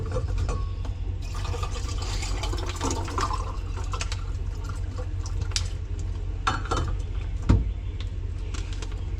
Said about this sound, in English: I need a water refill before I go back to the field.